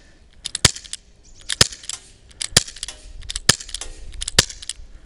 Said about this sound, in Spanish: voy a dispararle, estoy a 20 metros,